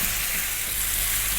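Ground turmeric, cumin, Kashmiri chili powder and coriander sizzle in hot oil in a pan for a slow-cooked mutton curry, stirred constantly; a steady, close frying crackle with no voices.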